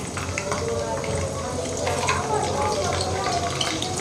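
Chopped garlic and curry leaves frying in hot oil for Maharashtrian katachi aamti, giving a steady, close crackling sizzle that runs throughout.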